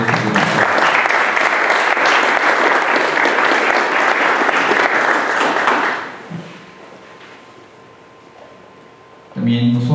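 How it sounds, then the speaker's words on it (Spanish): Loud, dense applause fills a formal installation ceremony of a public security advisory committee, sustained for about six seconds before cutting off abruptly, followed by a quiet room and a brief new burst at the end. "me permito darle un fuerte aplauso"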